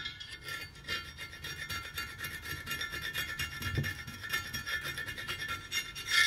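Continuous rhythmic scraping of old paint off a Honda Civic mk1 wheel rim, a close, steady rasping stroke repeated back and forth with no talking.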